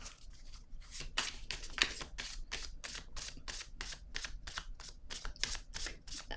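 Tarot cards being shuffled up close, a rapid run of crisp papery riffles and slaps repeating steadily, fairly quiet and without speech.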